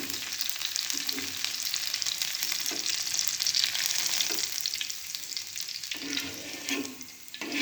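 Sliced onion fries in a pan until turning orange, a continuous loud sizzle broken by a few stirring scrapes, with no talking.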